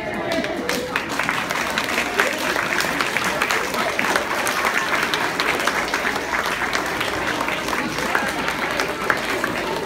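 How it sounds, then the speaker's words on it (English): Students at a middle school National Junior Honor Society induction ceremony give their parents a standing ovation, a steady wash of dense crowd applause that fills the whole stretch, fairly loud and close, with no talk over it. "I want you to turn to your parents and give them a standing ovation for what they do for you."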